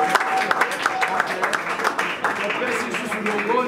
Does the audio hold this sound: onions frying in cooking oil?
no